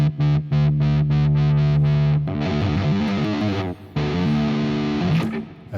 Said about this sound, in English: I have a high gain distortion. I think this is a Soldano amp with a 4x12 cabinet and a lot of delay